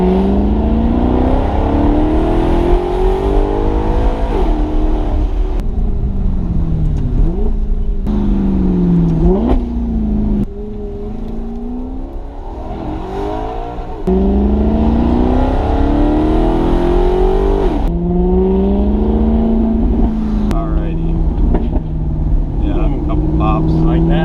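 Straight-piped Maserati GranTurismo MC revving hard under full throttle, its engine note climbing and dropping through quick gear shifts over about twenty seconds, loud and close, with people talking over it.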